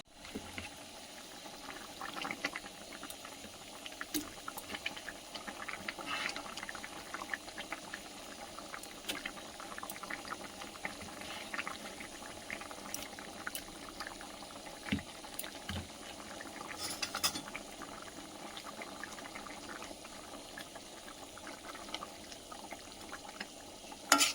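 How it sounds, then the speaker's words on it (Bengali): A pot of vegetable curry simmers on the stove with a soft, continuous bubbling and gurgling, low in level, with occasional small pops and nobody speaking. "তরকারিটা ফুটছে এবার মাছ দিয়ে দেবো"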